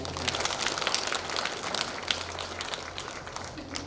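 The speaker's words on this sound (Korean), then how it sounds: "박수 한번 해주시라고요." Audience applause at the completion ceremony for a multipurpose disaster relief shelter in Heunghae-eup: a dense, steady patter of many hands clapping at moderate volume, sustained for a few seconds over a low background hum.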